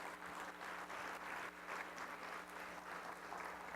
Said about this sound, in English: So big round of applause for our sponsors.